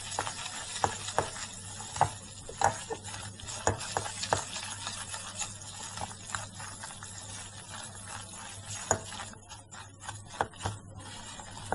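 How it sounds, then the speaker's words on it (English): Maida flour being stirred in a pan, giving a steady scraping, stirring texture broken by intermittent clicks and knocks of the utensil against the pan, with no talk. "We'll stir it for some time."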